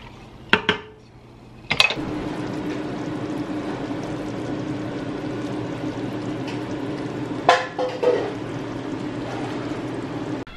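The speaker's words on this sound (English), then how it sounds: "So I'm just gonna let this cook until the pasta is done." Bow tie pasta cooks in a pot on a home stove, a steady low bubbling simmer with a couple of sharp clinks of a utensil against metal near the start and later.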